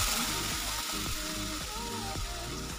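Pineapple paste sizzles steadily in a wok where chillies were fried, with soft stirring scrapes under a constant close frying hiss.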